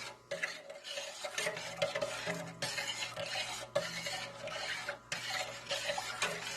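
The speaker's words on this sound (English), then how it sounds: "I'm going to stir it up really, really well." Yogurt cultures being stirred into a pot of milk with a utensil, giving a steady run of scraping, clinking strokes against the pot in bursts, close and fairly loud with no talking.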